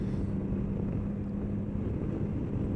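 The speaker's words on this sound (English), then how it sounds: "You can hear the engine, and you can hear this throb of the exhaust." A 2019 BMW S1000 XR motorcycle's engine and exhaust throb steadily while cruising in fifth gear at about 40 mph, a continuous low drone mixed with wind rush, with no talking.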